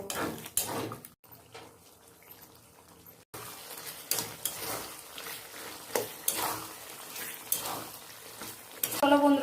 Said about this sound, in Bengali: এবার ছালগুলোকে দু মিনিট কষে নেব